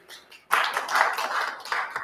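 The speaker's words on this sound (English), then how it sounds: "Give her a nice big round of applause." An audience at a powwow breaks into applause, a sudden onset of many hands clapping that stays fairly steady and moderately loud for a couple of seconds before tapering.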